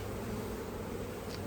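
Honeybees buzz steadily around the hive trays, a dense continuous drone that stays at an even level throughout with no talking.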